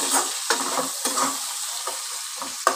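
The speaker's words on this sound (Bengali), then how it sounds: "পেঁয়াজ কুচিটা একটু ভাজা ভাজা করে নেব" Chopped onions fry in oil and are stirred with a spatula, a steady close sizzle broken by a few sharp scrapes and taps against the pan at uneven intervals.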